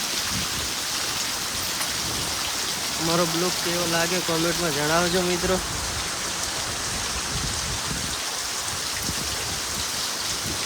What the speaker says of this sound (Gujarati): વરસાદ પણ વધારે પડી રહ્યો છે.